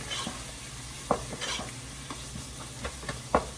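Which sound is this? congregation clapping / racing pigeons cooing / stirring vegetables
stirring vegetables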